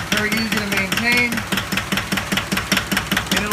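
A small Yanmar tractor engine runs with a steady, rapid knocking pulse, loud and close, its rhythmic chug continuing evenly under someone talking.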